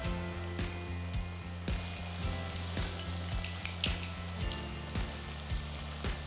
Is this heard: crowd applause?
no